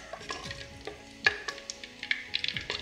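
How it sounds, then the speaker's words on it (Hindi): Cumin seeds fry in hot oil in a pan for a potato sabzi, a soft sizzle under sharp spoon scrapes and light clinks that come in quick irregular bursts. "तो ज़ीरा भी फ्राई हो रहा है"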